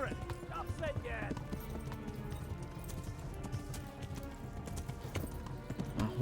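Rapid clip-clopping hooves of a galloping horse in the video game Kingdom Come: Deliverance, steady and busy, with game music and voices layered over it.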